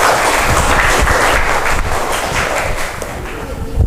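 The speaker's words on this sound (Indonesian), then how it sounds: "Beri aplaus dulu." A classroom of students applauds a group's presentation: steady, dense clapping from many hands, loud and close, holding throughout with slight thinning near the end.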